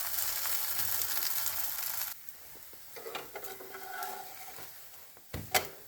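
Suji paneer chilla cooking on its second side on a griddle, a soft sizzle that drops quieter partway through, followed by a few light scrapes and taps of a spatula.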